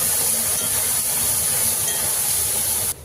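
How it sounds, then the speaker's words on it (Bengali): Boiled lentils and vegetable stems poured into hot spiced tempering oil give a loud, continuous sizzling hiss that fills the clip without pause before cutting off abruptly near the end. "ডাল আর ডাঁটাটা দিয়ে দিয়েছি।"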